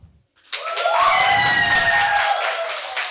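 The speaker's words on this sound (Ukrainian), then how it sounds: "Аплодуємо зимі." A live audience claps and cheers in a loud, dense burst that starts abruptly after a brief silence and holds steady for about two and a half seconds, with whoops rising over the applause.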